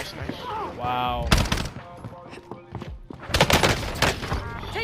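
Bursts of gunfire from the video game Warzone crack out in rapid volleys with several sharp loud shots, broken by a short quieter gap, while a player shouts over the fighting.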